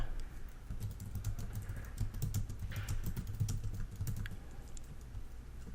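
Rapid, steady typing on a computer keyboard, close and fairly quiet, with dense clicking keystrokes throughout as a heading word is typed out while building a web page.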